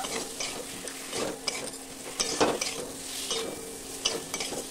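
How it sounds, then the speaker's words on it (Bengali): A spatula stirs cumin, fennel and coriander seeds frying in oil in a pan: a soft sizzle beneath repeated scraping strokes and light metallic taps, close and moderately loud. "দিয়ে এবারে একটু খুন্তির সাহায্যে নেড়ে চেড়ে নেব"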